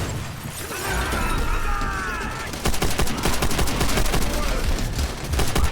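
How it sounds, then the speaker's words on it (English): Dense rapid gunfire with sharp crackling bursts fills a World at War battle on Veteran difficulty, a video game set in the Second World War, growing louder and more continuous after a few seconds of rumbling combat noise. "Grenade!"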